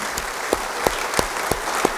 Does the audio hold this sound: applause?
yes